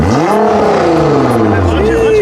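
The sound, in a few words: sports car engine revving with exhaust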